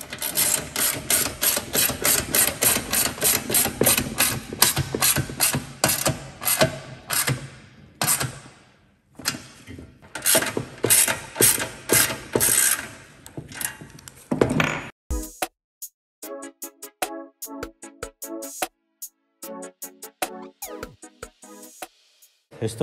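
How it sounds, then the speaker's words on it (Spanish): Double rivets set into an aluminium motorcycle air filter box with a hand riveter, rapid ratcheting clicks in repeated bursts, loud and close, followed by a few sharper isolated snaps after a pause. "Esto lo hago para meterle un doble remache y que no se gire."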